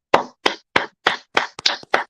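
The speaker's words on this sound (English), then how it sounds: "let's give ourselves a round of applause" One person claps their hands in a slow, even run of about eight sharp claps, close and loud, with silence between the claps.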